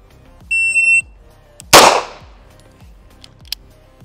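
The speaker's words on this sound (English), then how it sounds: "when I press the buzzer, it'll give me about 2 seconds before it gives me the green light." A shot timer gives a loud electronic beep for about half a second, then a sharp, loud gunshot follows, with a fainter click shortly after.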